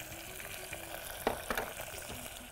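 Tomatoes and coriander sautéing in a pan, a soft steady sizzle with a few brief stirring scrapes, fairly quiet and close.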